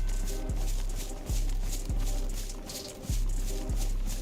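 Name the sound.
footsteps in DayZ video game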